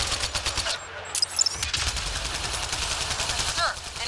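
Rapid bursts of sci-fi gunfire from the video game Mass Effect: Andromeda, loud and close, with clustered shots and a brief lull near the start, over a dense combat backdrop.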